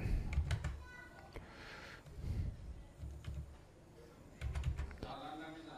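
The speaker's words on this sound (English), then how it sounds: "hit enter on your computer keyboard" Typing on a computer keyboard while entering a terminal command on a Linux computer, with bursts of clicky keystrokes in short runs separated by pauses, close and moderately loud, alone without talk.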